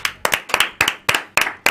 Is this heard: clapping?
yes